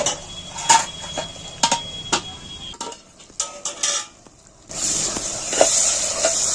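A metal lid clinks and scrapes back onto a pot of village-style mutton curry, several sharp clanks followed by a rising sizzle of the cooking meat underneath.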